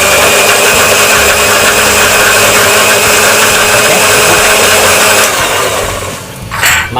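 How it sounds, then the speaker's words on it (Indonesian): An electric kitchen blender grinds a spice paste of turmeric, shallot, coriander and garlic with a loud, steady, harsh whirring that runs for about six seconds before cutting off abruptly. "yang tadi saya blender, yang saya campur, yaitu ada bumbu-bumbu rempah kayak kunyit, bawang merah, ketumbar, bawang putih."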